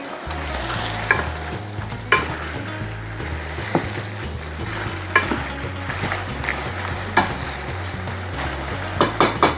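Chicken asado stirred in a pot, with repeated scraping and clacking strokes over a steady low simmering bubble, fairly close and loud with no talk.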